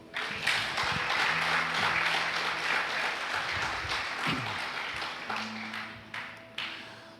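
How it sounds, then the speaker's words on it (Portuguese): Church congregation applauding together, a sustained wash of clapping that holds steady for several seconds, with faint tones and murmurs from the sanctuary underneath, then tapering slightly toward the end. "Aplauda ao Senhor"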